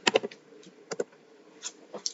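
Typing on a computer keyboard while renaming a spreadsheet tab gives a few quick clusters of close, light key clicks separated by brief pauses, quiet and with no speech.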